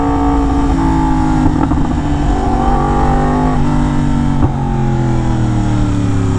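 A Yamaha R1M motorcycle engine runs loud and close, holding a steady droning tone with small shifts in pitch and a brief dip near the end, with no voices over it.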